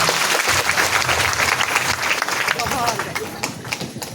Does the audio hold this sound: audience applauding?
yes